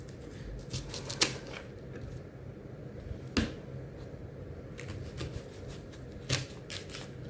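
A kitchen knife cuts the parts off a fresh leek, giving a few crisp, sharp snaps spaced a couple of seconds apart over a soft background hush, close up, with no talking.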